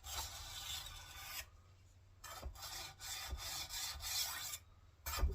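Knife blades being sharpened, with rhythmic rasping strokes of metal drawn across a sharpening surface in close, steady bursts separated by brief pauses, no talk.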